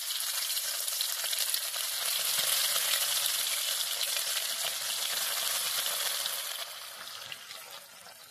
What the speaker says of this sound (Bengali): এবার গ্যাসের ফ্লেমটা একটু মিডিয়ামে রেখে একে একে মাছগুলো ছেড়ে দিচ্ছি ভাজবার জন্য।